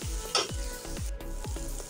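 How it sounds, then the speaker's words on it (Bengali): Snake gourd frying in a pan with coconut, a close steady sizzle broken by regular scraping strokes of a spatula about every half second. "নারকেল দিয়ে নামিয়ে নিতে হবে।"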